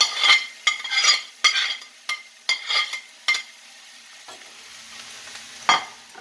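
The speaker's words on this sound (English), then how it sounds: "I'm just going to toss the vegetables on top." Vegetables tossed into a hot stir-fry pan, a series of short sizzling bursts and scrapes as they hit the oil, several quick hits in the first few seconds, then a quieter pause and one last sizzle.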